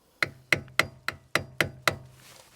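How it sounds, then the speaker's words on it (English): A flathead screwdriver is hammered to knock out a driveshaft retention clip on a BMW E36, giving seven sharp metallic strikes at an even, steady rhythm, close and fairly quiet. "You just got to get a flathead in there and just hammer it out"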